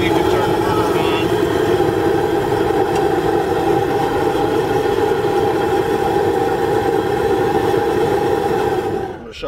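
The burner on a Stepp SBF-500 bottom-fired asphalt kettle runs with a loud, steady roaring hum and engine-like drone, holding constant close by before dropping away at the very end.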